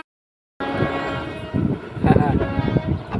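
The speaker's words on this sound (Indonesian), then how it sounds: "nggak tahu ada kereta api lewat dari belakang" A train passes close behind, its horn blaring in loud sustained blasts over the rumbling cars, starting abruptly after a brief silence.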